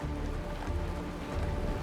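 Rain falls steadily in the sci-fi game Honkai Star Rail, a dense, even hiss of drops at close range with no voices over it.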